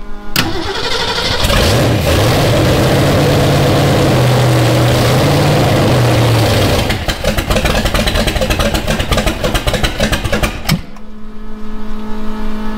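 A rat rod's engine cranks over with a steady, loud starter churn, then catches into a rough, uneven running roar before cutting off abruptly near the end, leaving a faint hum.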